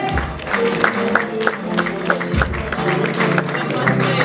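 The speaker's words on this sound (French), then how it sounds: "On n'est pas obligé d'arrêter d'applaudir" Clapping from an award-ceremony audience at a trophy presentation, continuous and moderately loud, blended with background music and occasional voices.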